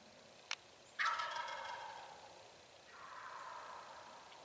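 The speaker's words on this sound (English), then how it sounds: "those other more dominant toms that are gobbling in the background" Wild turkey toms gobbling during a spring hunt in the Wisconsin woods, one fairly close rattling gobble followed by a fainter, more distant one in quiet outdoor air.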